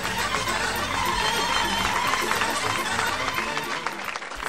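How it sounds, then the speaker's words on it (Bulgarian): An audience applauds Moldovan folk dancers at the EUROFOLK 2015 European folklore championship, a dense, sustained roar of clapping that fills the hall. "Аплодисменти за танцьорите на Молдова!"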